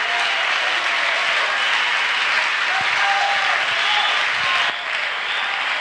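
A church congregation at a pastor's service breaks into sustained, dense applause acclaiming Jesus Christ, a steady wash of clapping hands filling the room that dips slightly near the end.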